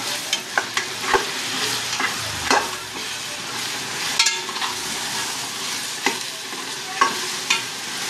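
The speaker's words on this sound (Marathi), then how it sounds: "आता मी हे सगळं चांगलं एकदम एकजीव करून घेते।" Chicken biryani masala with black chili powder being stirred in a pan, a steady scraping stir with soft sizzling and repeated sharp spoon knocks against the pot, close and alone.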